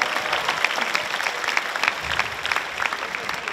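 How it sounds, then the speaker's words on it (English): A school assembly audience applauds the school nurse being introduced, steady crowd clapping throughout that stays even and moderately loud. "A round of applause."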